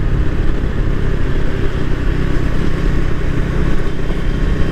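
A KTM RC 390 motorcycle with an aftermarket exhaust cruises steadily, its engine giving a constant, even drone mixed with broadband road and wind noise, with no clear revs or pauses.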